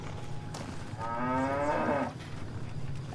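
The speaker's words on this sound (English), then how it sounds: "A weird place to keep the cows." A cow moos once in Fallout: New Vegas, during the Christmas special: a single drawn-out, fairly clear low moo lasting about a second over steady game background ambience.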